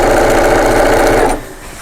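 A sewing machine stitches through layered fabric of an organiser bag over earlier stay stitching, a steady close mechanical whirr running for over a second before stopping abruptly.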